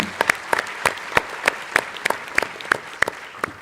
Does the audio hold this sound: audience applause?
yes